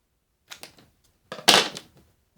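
A few short snips from cutting the edges off a part of a Metcalfe model signal box kit, two quiet clipping bursts followed by a louder, longer crisp cut, close by with no talk.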